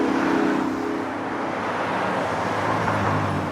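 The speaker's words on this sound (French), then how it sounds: "il y a énormément de voitures" Dense road traffic rushes past nearby, a continuous broadband roar of many cars with no gaps and no voices over it.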